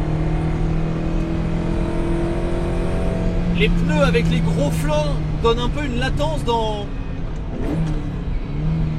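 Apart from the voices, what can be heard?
Ferrari 308 GTB engine intake noise while driving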